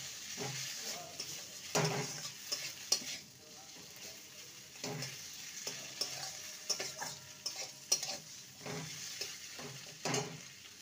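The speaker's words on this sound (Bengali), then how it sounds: "ভেজে রেখেছিলাম যে মাছটাকে সেটাকে ম্যাশ করে নিয়েছি সেটাই দিয়ে দিলাম। ভালো করে মিশিয়ে নেব।" Mashed fried fish being stirred into a mixture in a pan for a pointed gourd recipe: irregular scraping strokes and soft clinks of the utensil over a quiet, continuous sizzle.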